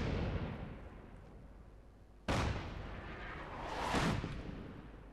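Quiet background rumble broken by two heavy artillery blasts in Fallout 4, one sharp impact followed by a rolling, booming second one, both fairly distant.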